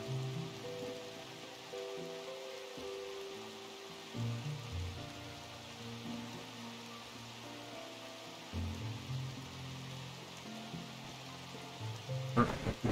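Rain in a video game falls as a faint, steady hiss of drops, under quiet game music with sustained tones, and no voices are heard over it.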